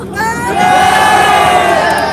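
A large crowd at a rally on a Wigan estate cheers and shouts loudly and continuously, a dense roar of voices swelling and holding near the listener.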